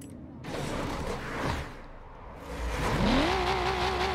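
Steady engine roar from a Nissan GT-R in a video game, rising into a revving whine with a climbing pitch toward the end, loud and close, no talking.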